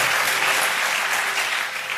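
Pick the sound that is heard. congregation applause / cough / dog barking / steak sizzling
congregation applause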